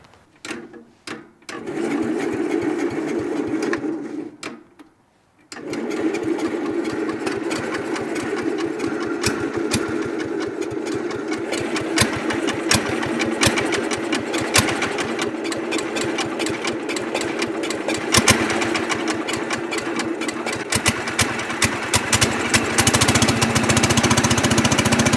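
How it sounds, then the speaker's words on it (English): Cub Cadet lawn tractor engine cranking, stalling briefly, then catching and running steadily with a rough, chattering idle that continues loud and close for about twenty seconds. "Think the Cub Cadet's gonna start?"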